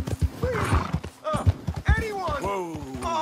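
A horse in a Rockstar video game neighs and whinnies in several rising calls, with clip-clopping hooves beneath and game voices talking over it.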